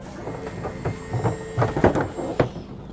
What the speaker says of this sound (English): they're doing a full door removal.